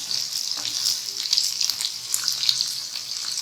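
Mirchi kebabs fry in oil in a pan, giving a steady, close sizzle with light crackling and spitting throughout and no voices.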